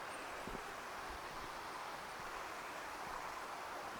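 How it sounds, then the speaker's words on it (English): A river flows through a forested valley in the South Esk Valley, Midlothian, as a steady, soft broadband rush with faint rustling and a few light knocks close by. "I'll let you tune into the sound of the water"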